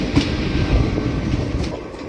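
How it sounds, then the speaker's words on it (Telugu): Steady low rumble of the Vikarabad–Kacheguda passenger train rolling past nearby, continuous and fairly loud with faint rhythmic rattling, no voices. "కాచిగూడ ప్యాసింజర్ ట్రైన్ కింద వెళ్తుంది."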